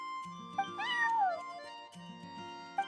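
A cat in Genshin Impact gives one drawn-out, falling meow, fairly quiet, over soft game background music.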